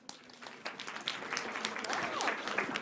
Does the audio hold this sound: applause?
yes